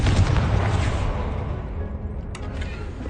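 A Confringo spell blast in the Hogwarts Legacy video game, a heavy, booming explosion that rumbles and fades over a few seconds, loud and close, with a couple of brief sharp sounds near the end.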